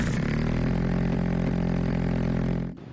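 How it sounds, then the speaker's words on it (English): A car engine running without its catalytic converter gives a loud, steady, raspy exhaust drone that holds for nearly three seconds, then cuts off abruptly. "without it, your car could sound something like this"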